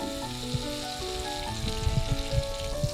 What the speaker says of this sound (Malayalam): ഒരു കടായി വെച്ച് ചൂടായിട്ടുണ്ട് രണ്ട് ടേബിൾ സ്പൂൺ ബട്ടർ ചേർക്കാവേ